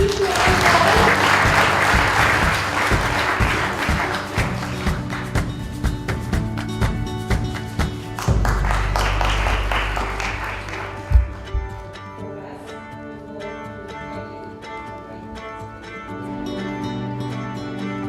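Audience applause at a book launch, a loud, dense burst of clapping from a crowd that gradually thins and fades, with some voices mixed in toward the end.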